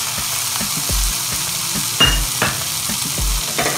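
Homemade pizza topping with spices, lemon juice and chilli flakes frying in a pan, loud steady sizzle punctuated by repeated knocks and scrapes of a spoon stirring against the metal, close up, no voices.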